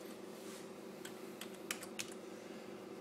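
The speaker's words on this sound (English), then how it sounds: "Type in the first code" A billing code typed on a computer keyboard, with a few soft, quick keystrokes clustered near the middle over a steady background hum.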